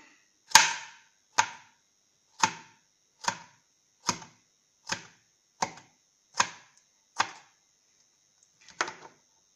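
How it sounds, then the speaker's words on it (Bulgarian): A sharp knife strikes a cutting board while finely chopping strawberries, about ten evenly spaced chops, with a short pause before the last one. "След това и нея режем така."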